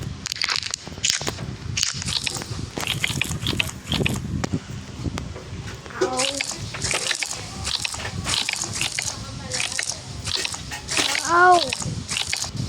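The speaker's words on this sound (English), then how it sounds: "Crunchy ball." A crunchy NeeDoh stress ball toy is squeezed again and again, giving crackling, gritty crunches and squishy sloshes close up, mixed with a voice talking at intervals.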